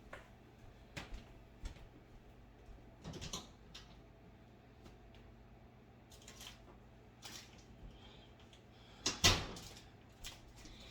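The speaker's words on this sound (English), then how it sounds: "let me get that extra bag out of the pantry" Pantry cupboard handling while fetching a bag of chocolate chips: scattered clicks and light knocks, a door-like thump, and a crinkly rustling burst near the end, quiet and close in an otherwise still kitchen.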